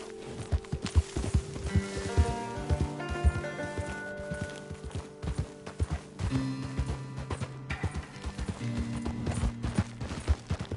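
A horse in Red Dead Redemption 2 moves with quick, rhythmic clip-clop hoofbeats over steady game music, and the hoofbeats continue throughout, with no talking.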